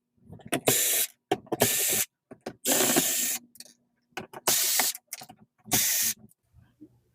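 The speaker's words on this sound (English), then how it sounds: "we need to remove a few screws here." Screws being backed out of an HP ENVY 6455 inkjet printer during disassembly, heard as five separate bursts of close, hissing ratchet-like driver whirring with short quiet gaps between them.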